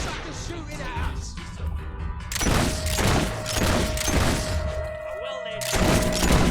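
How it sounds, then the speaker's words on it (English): Enemy gunfire in the Fable 3 video game, repeated booming shots and crashing impacts at a loose rhythm, loud and close, with talk running over parts of it. "Suckers shooting at us."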